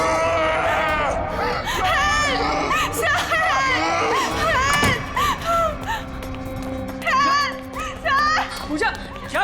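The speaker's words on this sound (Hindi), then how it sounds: "चीख क्यों रही हो?" A woman screams in a Hindi crime-horror TV drama about a ghost. Repeated high, wavering cries mix with other voices and dense background noise, loud and nearly continuous.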